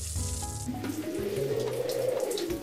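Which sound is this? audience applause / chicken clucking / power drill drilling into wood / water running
water running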